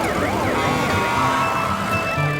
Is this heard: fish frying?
no